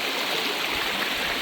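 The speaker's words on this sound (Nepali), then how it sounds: "यहाँ पानी कराइरहेको छ घरङ गरेर" A mountain stream at a camping spot roars steadily and loudly, a continuous broadband rush of water with no pauses.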